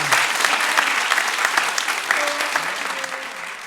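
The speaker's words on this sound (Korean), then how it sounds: "우리 인사할 때 큰 박수로 여러분 축복해 주시기를 바랍니다." A church congregation at a Sunday service applauds, a dense and steady clapping from a full room that continues without pause and fades slightly near the end.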